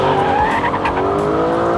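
Aston Martin V12 Vantage sliding sideways in a drift, its heavy V12 engine roaring loudly and steadily while the tires squeal and skid continuously close by.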